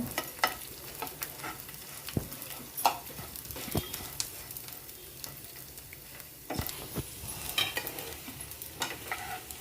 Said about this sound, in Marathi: डिंक थोडा थोडा तळून घ्यायचा आहे, एकदम सगळा घालायचा नाही आहे